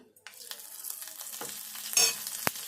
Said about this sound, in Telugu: ఇప్పుడు అల్లము వెల్లుల్లి పేస్ట్ వేసుకుందాము